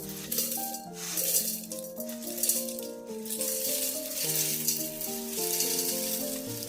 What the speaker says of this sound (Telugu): వీటిని మిక్సీ జార్లో వేసుకుని గ్రైండ్ చేసుకోవాలండి